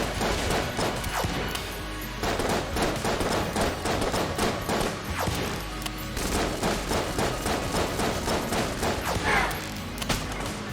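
Rapid video-game gunfire from Enter the Gungeon, a dense barrage of shots, blasts and crashes from a shotgun enemy fight, loud and continuous throughout with no pauses.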